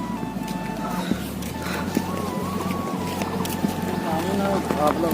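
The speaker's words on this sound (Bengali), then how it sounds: "এই যে আমাকে সেই নৌকাটা আসছে আমরা ওইটাই উঠবো ওইটা অবশ্যই ইঞ্জিন চালিত" An engine-powered riverboat chugs steadily with a low, pulsing motor drone as it approaches, while people talk nearby over the running engine.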